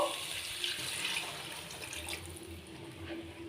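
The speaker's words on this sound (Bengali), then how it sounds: "তারপরে আমি এতে জল দিয়ে দেব।" Water pours into a pan of yogurt jackfruit curry, a soft steady splashing and trickling stream close by with no talking, easing slightly toward the end.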